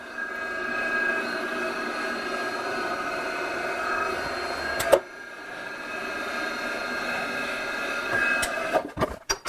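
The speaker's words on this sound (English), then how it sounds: "on a soft metal like this, I can power the tap through the material. I'm going to put the mill in low gear," A milling machine in low gear power-feeds a thread-forming tap through soft copper for a water tank, a steady mechanical whir and hum broken by a sharp knock midway and a few clunks as it stops near the end.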